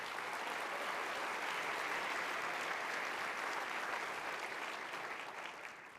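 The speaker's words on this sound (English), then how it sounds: "Give them a round of applause." An audience at the 2024 Oakland County State of the County Address gives sustained applause, a dense, even wash of clapping from a large hall that fades slightly near the end.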